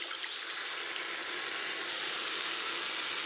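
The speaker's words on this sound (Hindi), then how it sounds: "और अब हमने हींग डाल दिया इसमें। अब हम दही डाल देंगे।" Curd added to a hot pan with asafoetida while making dhaba-style kadhi without pakoras gives a continuous, even sizzling hiss that holds steady at moderate loudness, with no voices.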